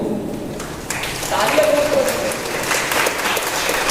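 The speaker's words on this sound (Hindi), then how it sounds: "तो तालियां बजा दी उनके लिए" An audience at a school career talk claps for a 12th-grade student, a moderate burst of applause that swells after a quiet start and carries on steadily.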